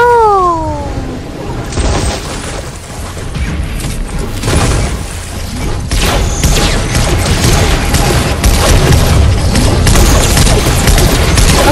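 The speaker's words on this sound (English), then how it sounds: "Okay, I'm shooting randomly now." Rapid gunfire and blasts in Fortnite, dense crackling bursts and booms filling the scene after an opening cat-like wail, loud and continuous.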